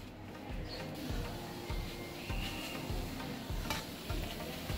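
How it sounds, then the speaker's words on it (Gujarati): Leftover roti crisps in ghee on a hot pan with a soft, steady sizzle, broken by faint regular scraping and pressing taps as it is turned and pressed down. "ઘી લગાવીને એને આ રીતે આપણે એને કડક કરવાની છે।"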